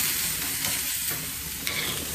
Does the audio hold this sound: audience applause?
no